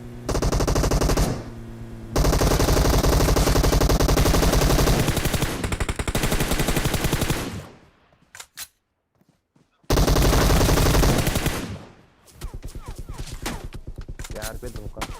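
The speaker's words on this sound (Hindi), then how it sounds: "उसके बाद भी गोलियां अभी भी चल रही थी" Rapid automatic gunfire in the video game PUBG Mobile, loud and sustained in long bursts, broken by a brief near-silent gap before more rattling fire resumes.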